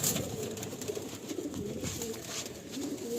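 Rotello pigeons coo softly in a loft, low rolling calls repeating over a steady background hum.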